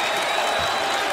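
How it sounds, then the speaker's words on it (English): A basketball arena crowd stands and applauds in tribute to Kobe Bryant, a broad, steady roar of clapping and crowd noise, sustained and dense throughout the short span. "the crowd beginning to recognize something special is happening, on their feet applauding"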